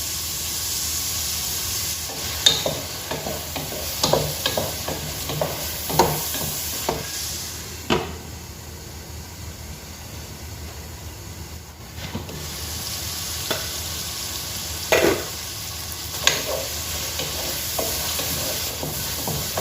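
Tamarind-jaggery paste frying in a pan for Mangalore-style crab curry, a soft continuous sizzle with repeated scraping stirs and occasional sharper clinks of the spoon against the pan, nearby and moderately loud.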